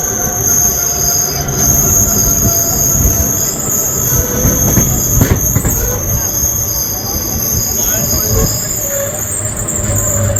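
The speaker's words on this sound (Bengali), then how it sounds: "ট্রেন এখন শক্তিগড় ক্রস করছে" The 13187 Maa Tara Express from Sealdah to Tarapith runs past Shaktigarh, heard from inside an AC chair car: a loud, steady rolling rumble with high wheel squeal running throughout.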